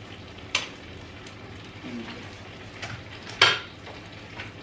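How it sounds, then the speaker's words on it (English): Jollof rice with melting butter stirred in a pot over low heat, a few sharp spoon clinks and scrapes against the pot amid a quiet background hiss. "I'm just going to stir it until the butter melts."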